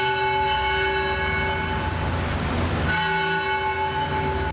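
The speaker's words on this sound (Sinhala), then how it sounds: "පෙරවරු 8:45ට ආරම්භ වුණේ කොච්චිකඩේ දේවස්ථානයේ සීනුව නාද කරමින්" Church bell ringing at St Anthony's Church, Kochchikade, a sustained, clear metallic tone with long ringing overtones that fades briefly in the middle and then swells back, with no talk over it.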